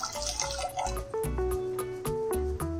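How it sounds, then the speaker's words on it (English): Water trickles and drips into a pot while making Kashmiri noon chai with green tea leaves, in short splashes, with clinking and a faint hum beneath, close and fairly quiet. "I'm going to add in 2 cups of water more."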